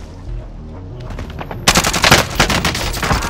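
Call of Duty Modern Warfare gunfire in a Rebirth match, starting with scattered distant shots, then breaking into loud, rapid automatic bursts that continue to the end, with a voice briefly heard underneath.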